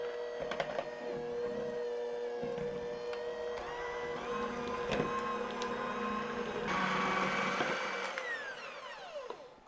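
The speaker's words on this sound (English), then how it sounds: "I'm going to mix this with my hand mixer until it's nice and light and fluffy" An electric hand mixer beats softened butter in a bowl, giving a steady, fairly loud motor whir that holds throughout with small shifts in pitch as the beaters move, and no talking.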